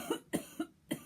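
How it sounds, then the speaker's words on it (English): A man gives a quick run of four short, dry coughs, close and fairly quiet, evenly spaced over about a second with no talking. "sometimes I get that little cough and I just can't do anything with it"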